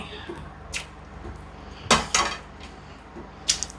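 Aloo chana curry is moved into a serving dish with a few scattered metallic clanks and scrapes of a utensil against cookware, separated by quiet pauses in a home kitchen.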